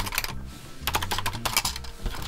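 A Commodore C64C keyboard is handled up close, its keys clattering and clicking in irregular bursts with occasional hollow knocks of plastic being moved.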